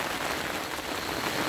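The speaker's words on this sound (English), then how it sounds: "But the rain just arrived." Steady rain pours down outdoors on a hillside terrace in Burundi being planted with bamboo, a dense, even hiss that fills the whole moment without pause and without voices.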